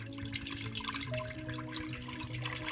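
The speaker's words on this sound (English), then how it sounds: "the first thing I'm going to do is pour in my milk" A whole 32-ounce container of milk poured into a pot for homemade yogurt, a continuous close liquid gurgle and splash with steady pouring and trickling texture, no one talking.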